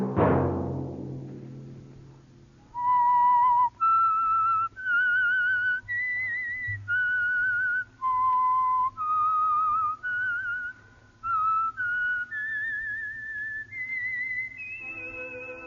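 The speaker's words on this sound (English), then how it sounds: "Let that whistle be your signal for the Signal Oil program, The Whistler" A lone whistled melody, the theme signal of the old radio program The Whistler, rings out as a series of clear sustained notes that step up and down in pitch, close and prominent after a brief opening chord.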